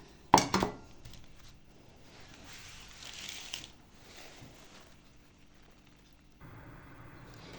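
A metal pot of stuffed peppers clanks down sharply onto a stovetop, followed by quiet scraping and faint kitchen clatter.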